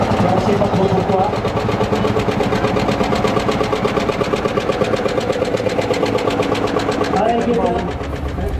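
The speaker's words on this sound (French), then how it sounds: "Non, moteur Vendœuvre. C'est un moteur Vendœuvre. Il est là. Il est de 1908." A 1908 Vendœuvre stationary engine running at a show, a loud close mechanical chugging with a fast, even knocking rhythm that holds steady throughout, with voices talking over it.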